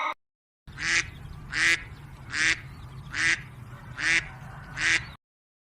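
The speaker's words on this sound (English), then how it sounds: "D for duck." A duck quacks six times in an even rhythm, each call loud and close, following a brief snippet of sound at the start.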